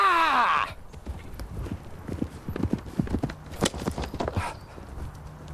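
Horse hooves beat in a quick clip-clop as a rider charges with a lance tucked under the arm, a run of close, loud thuds following a brief whinny-like tone at the start.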